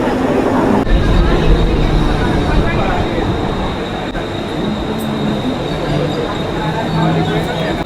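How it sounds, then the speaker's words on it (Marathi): A Mumbai local train bound for Badlapur pulls out of a station with a steady, loud rumble of wheels and carriages and occasional squeals, while people talk nearby. "ट्रेन निघालेली आहे."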